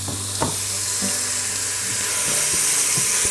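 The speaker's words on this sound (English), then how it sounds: "this meat will allow a little bit of liquid to come out as it's sauteing here" Beef for Hungarian goulash sautés and sears in an Instant Pot with a steady, close, hissing sizzle, broken by a few soft clinks and light scraping.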